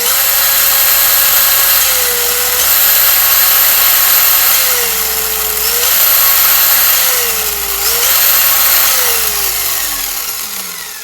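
A new electric motor in a Hobao VTE RC car whines steadily and loudly, its pitch dipping and recovering several times as the throttle is eased and reapplied, with no voices.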